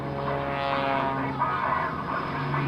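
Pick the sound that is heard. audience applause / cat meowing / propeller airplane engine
propeller airplane engine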